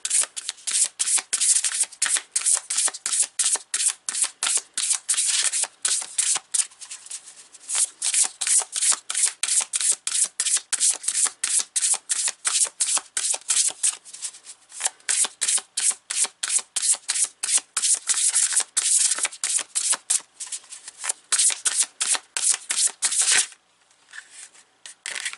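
A deck of Oracle of the 7 Energies cards is shuffled by hand, a steady run of crisp riffling slaps repeating closely and continuously for the whole stretch, with no talk over it.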